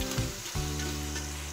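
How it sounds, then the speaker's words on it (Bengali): Ginger and onion fry in a hot pan with a steady close sizzle and a brief stirring scrape, no voices. "এখন এই আদা আর পেঁয়াজটাকে আমি 2 মিনিট ফ্রাই করে নিচ্ছি"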